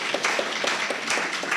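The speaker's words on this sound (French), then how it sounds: "on applaudit les intervenants pour leurs très belles interventions" Conference audience applauding speakers after a medical session on renovascular hypertension imaging, a steady, moderately distant wash of many hands clapping throughout with no talk.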